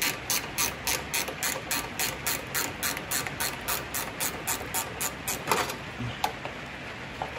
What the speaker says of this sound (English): this is where the ratcheting wrench comes in real nice and handy